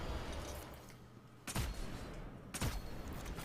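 Machine gun fire in Destiny 2, two short heavy bursts about a second apart that rise over steady game background noise.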